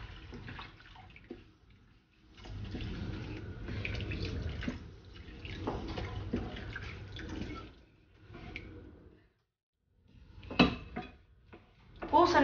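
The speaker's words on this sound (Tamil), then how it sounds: "தண்ணி ஆட் பண்ணிக்கலாம்" In a home kitchen, water is poured into boiled lentils while making paruppu pusinika kuzhambu, with bursts of splashing and running water broken by short quiet gaps and a few clinks.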